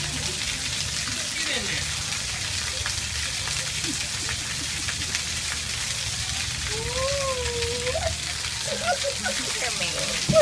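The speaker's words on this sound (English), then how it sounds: "get in that rain" Steady rain falls outdoors as a continuous broadband hiss with scattered drop patter, while people talk over it at close range.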